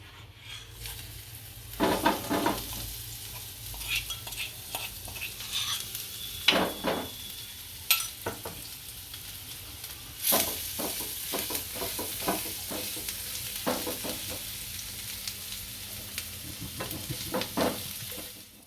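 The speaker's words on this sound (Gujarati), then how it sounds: "આપણું તેલ સારી રીતના ગરમ થઈ ગયું છે આમાં અડધી ચમચી હિંગ નાખશો આપણે ભેળવેલું લસણ નાખશું" Garlic and half a spoon of asafoetida frying in hot oil for garlic chutney, a steady close sizzle running throughout, broken by repeated clinks and scrapes of a spoon stirring against the pan.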